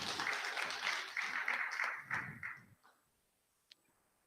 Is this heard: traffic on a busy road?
no